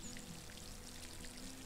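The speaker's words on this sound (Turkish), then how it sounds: "Hemen şöyle bir sulama işlemini yapayım son kez." Crops are watered in a farming video game with a steady, hissing splash of water, like pouring or a fine spray, filling the whole moment evenly without any talking.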